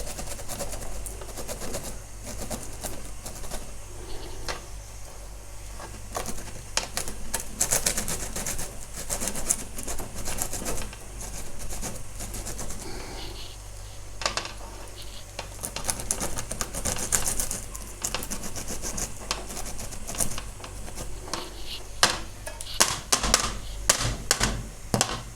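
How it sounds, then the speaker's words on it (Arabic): Garlic grated by hand over a cooking pot while making harira for a Ramadan iftar meal: a steady, scratchy rasping that runs on and off for the whole stretch, fairly close, with a busy, gritty texture and no talking. "نحك خوتي الثومه"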